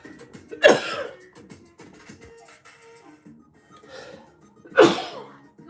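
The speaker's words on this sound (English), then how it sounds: "As you know, I was sneezing." Two sharp, loud sneezes from one person, the first near the start and the second near the end, with a quiet gap of faint background sound between them.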